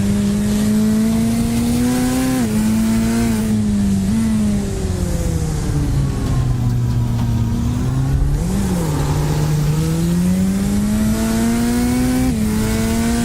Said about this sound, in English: I know Peter Mackay would love the sound of the Corvette rumble.